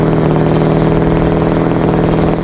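A Scania truck engine in Euro Truck Simulator 2 drones loud and steady, a deep continuous rumble holding an even pitch throughout, heard alone without voices.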